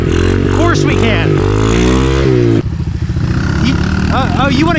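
A Honda XR50 dirt bike fitted with an 88cc big bore kit revs hard on a wheelie ride, its engine buzzing loudly and close with pitch rising and falling, then dropping off briefly before picking up again.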